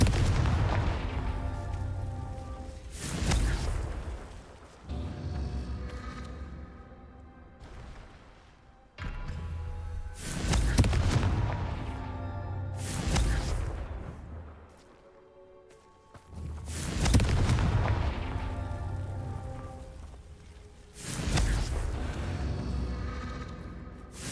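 Confringo blasting-curse explosions from Hogwarts Legacy boom out one after another. Five or six heavy, booming blasts land a few seconds apart, each fading into a rumbling tail, with no talking.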